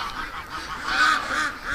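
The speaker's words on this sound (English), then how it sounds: "the ducks are really loud this morning" Ducks on a farm call loudly and continuously in the early morning, overlapping honking quacks carrying from nearby outside.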